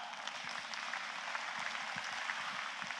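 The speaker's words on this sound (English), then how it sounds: "You can go ahead and clap" Audience applause fills a convocation hall, a steady wash of many hands clapping at moderate distance for a few seconds, without voices.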